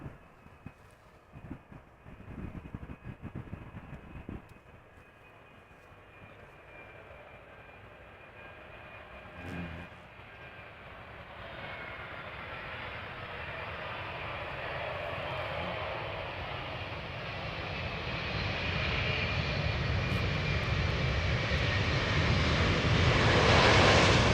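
An airliner arriving from Curaçao lands at Amsterdam Schiphol Airport, its engine roar growing steadily louder and broader over about twenty seconds with no talk, after a few faint clicks at the start.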